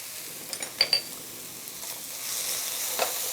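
Mirepoix vegetables with cumin and fresh cilantro sizzle softly in a pan. A few light utensil clinks sound early on, and the frying grows a little louder toward the end, with no talking.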